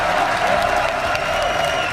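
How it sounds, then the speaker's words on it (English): Big arena crowd at the League of Legends World Championship quarterfinal draw in 2015 cheers and applauds loudly, a dense, continuous roar of clapping and shouting filling the short span with no break. "the crowd has just been so loud all weekend long"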